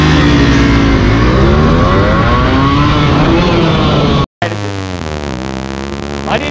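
A Yamaha RX100 and a KTM Duke 200 race hard. Their engines roar loudly with pitch climbing as they accelerate, then cut out for a split second before revving again with rising tone.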